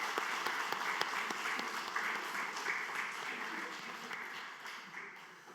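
A church congregation applauds the choir and worship team after a Sunday service song, with dense, steady clapping from many hands filling the sanctuary for several seconds and fading slightly toward the end.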